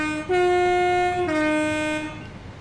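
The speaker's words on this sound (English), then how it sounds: "Those of you who want to hear the horn" A Class 323 electric multiple unit in Train Sim World 5 sounds its horn in two loud, steady tones, the first a higher pitch and the second dropping slightly lower, each sustained about a second before tailing off.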